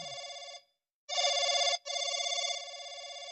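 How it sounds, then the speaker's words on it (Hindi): An old-style telephone bell rings loudly in rapid trilling bursts, with short gaps between rings and no voices. "घंटी पेलवा जा रही है।"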